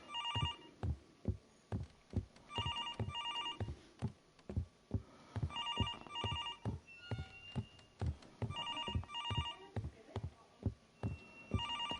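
A telephone in the horror game Infliction rings in repeated paired bursts, a bright electronic trill that recurs steadily, over a backdrop of regular heavy thumping footsteps or heartbeat-like thuds.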